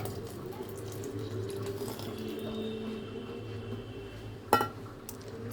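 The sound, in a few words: milk being poured into red dragon fruit paste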